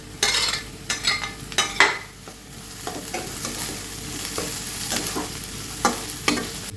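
Carrots stir-frying in a pan for fried rice, a soft continuous sizzle broken by repeated sharp scrapes and knocks of a spatula against the metal, close-up, with no talking.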